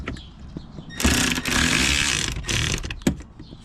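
Screws are tightened on the lower door panel of a 2022 Can-Am Maverick X3 XRS MAX Turbo RR: two loud, close, whirring bursts from a powered driver, separated by a short pause and followed by a sharp click.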